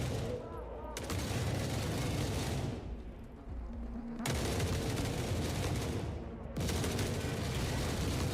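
Heavy gunfire in The Forever Winter comes in three long, loud bursts separated by brief lulls, with sniper shots among the dense crackle.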